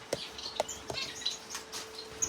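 Star finches chirp in short, sharp tweets scattered irregularly over a quiet indoor background while being caught by hand, with several calls close by.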